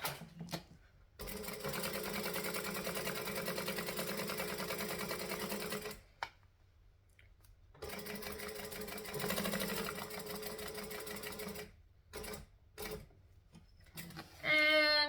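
A sewing machine stitches along the bottom edge of a sewing project in long, fast, whirring runs, stopping and starting between bursts. Short quiet gaps fall between the runs. It is close and clear, with no talking.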